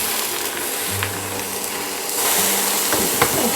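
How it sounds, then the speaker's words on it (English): Steady broadband sizzling of large field mushrooms frying in a pan, with a low hum and a few faint clinks and knocks partway through. "See, they're just sort of having a bit of a sizzle there."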